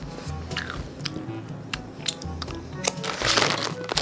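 Crunchy, salty cheese-coated snack chewed close up, with repeated crisp bites and crackly crunching, some crinkling and no talking.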